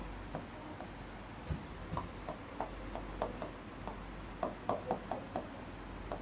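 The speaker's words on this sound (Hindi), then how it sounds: "नोट करके इसी बात को लिख रहा हूं मैं।" A pen scratching notes by hand on paper, faint and close, with short irregular strokes and taps over a quiet room hum.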